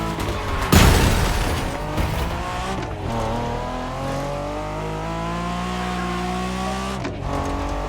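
A BMW Z4 M40i roadster in the racing game The Crew Motorfest, a loud impact thump followed by a steady climbing engine drone as the car accelerates through the gears, with a brief shift dip near the end.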